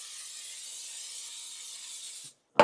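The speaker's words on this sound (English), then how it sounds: "now I'm gonna spray them with oil." An oil spray mists potatoes in one long, steady, close hiss lasting a couple of seconds, which cuts off abruptly, followed by a brief silence and then a short knock.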